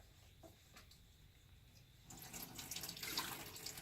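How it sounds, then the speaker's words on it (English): Running tap water comes on partway through and flows steadily into a sink as an item is rinsed under it, close and fairly loud after a quiet start. "Now you take this and you rinse it and you put it there."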